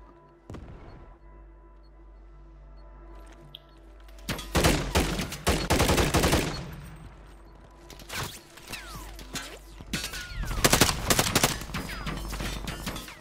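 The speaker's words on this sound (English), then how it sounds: "Where are these shots coming from?" Gunfire in a shooter video game, with bursts of sharp, loud shots and rapid volleys coming in clusters at varying distances, separated by quieter stretches of ambient rumble.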